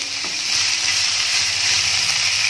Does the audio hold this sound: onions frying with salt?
yes